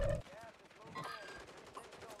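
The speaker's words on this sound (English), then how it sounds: "I'm getting shot at" Gunfire from the Call of Duty Warzone video game comes in a few quick, faint bursts with game sounds around them; no voices are heard.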